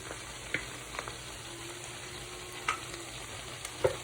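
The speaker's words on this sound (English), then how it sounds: "I'm going to add this garlic and those juices" Garlic and meat juices hit a hot pan after teriyaki stir-fry chicken has been lifted out, raising a soft steady sizzle punctuated by a few sharp clinks and stirring knocks, close and fairly quiet.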